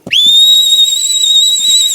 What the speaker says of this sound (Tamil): ஐயோ, விசில் அடிக்கிறீங்களா?